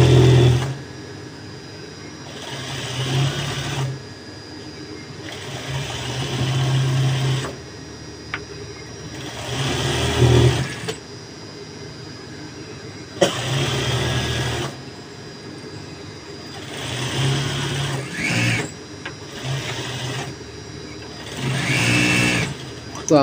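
A sewing machine stitches the gathered waist of a churidar pyjama in repeated runs of steady mechanical whirring, broken by pauses, with a voice talking over parts of it.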